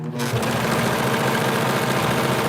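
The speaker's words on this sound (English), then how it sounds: "I gotta see when I sew them sides together" A sewing machine runs steadily, stitching fabric sides together with a continuous close mechanical whir and fast rhythmic needle chatter, alone without talk.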